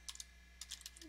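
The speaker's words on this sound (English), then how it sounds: "So I'm going to type in" Quiet bursts of typing on a computer keyboard, a few quick clicks, a pause, then a longer irregular run of keystrokes over a low steady hum.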